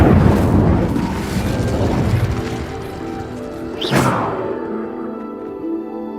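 A fire spell cast in a Harry Potter video game bursts out as a loud, sustained roaring whoosh with rumbling crackle, cresting in a sharp flare near the end before easing off.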